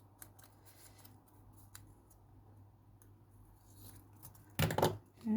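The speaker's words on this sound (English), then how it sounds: "I'm going to cut these down a bit." Scissors cut through autumnal craft papers, a short burst of close, crisp snipping near the end after mostly quiet handling noises.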